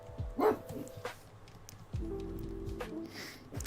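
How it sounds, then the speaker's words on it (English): A neighbour's dog gives a few short, sharp barks and yips at moderate distance, followed by lower whimpering sounds, over a murky room background. "one of the neighbours' dogs has just barked"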